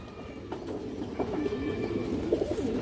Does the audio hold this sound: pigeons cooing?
yes